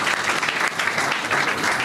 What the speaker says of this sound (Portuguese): Un aplauso al Señor Jesús